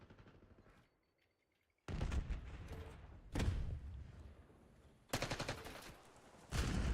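Bursts of gunfire from an esports shooter match, with loud rapid volleys cutting in and out across the clip, separated by brief quieter gaps.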